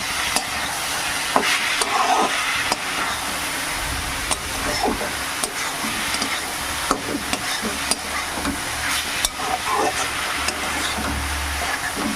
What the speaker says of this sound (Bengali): আমি আরও একটু ভাজা ভাজা করে নেবো